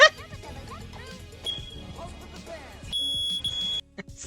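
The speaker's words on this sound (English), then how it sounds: "It's the fire alarm going off." A fire alarm sounds in a room with shrill, sustained electronic beeps that cut in and out, mixed with a person talking and exclaiming over it.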